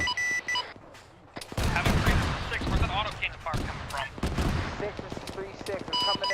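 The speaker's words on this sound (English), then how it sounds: "Where's that auto cannon fire coming from?" Rapid autocannon bursts and gunfire in an Arma 3 military simulation battle, loud sharp reports in clustered volleys across the stretch, with radio chatter and voices talking over and between the shots.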